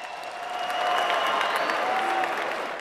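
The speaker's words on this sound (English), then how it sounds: "how about a round of applause for both these warriors in our co-main event tonight?" Audience applause at a live MMA event honoring two fighters after their co-main event bout, a steady dense wash of clapping that swells and holds for a few seconds at moderate distance, with a faint voice over it.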